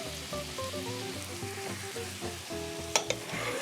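A leek, shallots and onion fry in a pan with a steady, moderate sizzle while they are stirred, and a couple of brief clinks of the utensil sound near the end.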